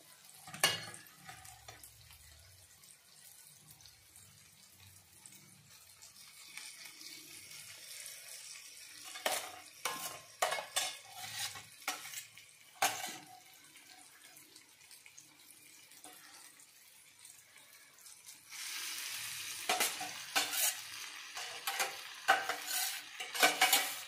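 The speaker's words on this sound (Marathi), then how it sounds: "यामध्ये आपण आता वांगी टाकणार आहोत।" Eggplant dropped into fried masala in a pan and stirred, with scraping and clattering bursts against a soft sizzle, growing busier and louder toward the end.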